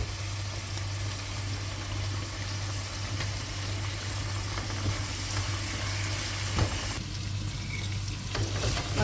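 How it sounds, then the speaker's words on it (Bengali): Dried fish (shutki) frying in a pan, a steady dense sizzle with stirring scrapes running throughout, fairly close, with a low constant hum underneath and no talk. "অনেক সুন্দর একটা গ্রান বের হয়েছে শুটকি ভাজা"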